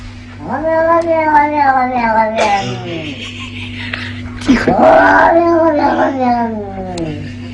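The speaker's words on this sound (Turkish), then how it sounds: "Bu kediler konuşuyor." Two cats meowing in long, drawn-out, wailing calls, one after another, close and loud, with a steady hum underneath.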